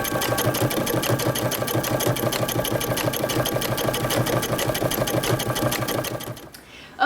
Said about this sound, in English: I'm going to top stitch close to the edge, all the way through my pant leg, through the crotch, and down the other leg